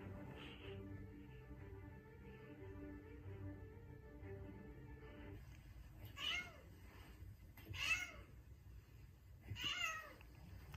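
A cat meows three separate times, faint and spaced a couple of seconds apart, over a quiet steady background hum.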